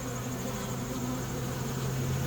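Carniolan honeybees hum in a dense, steady drone inside an open horizontal hive during a late-season inspection, a close, continuous swarm buzz with no voices.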